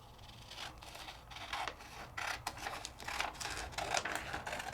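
Scissors cut a sheet of craft paper straight up the center, giving a close run of crisp rustling snips and scrapes with no talking.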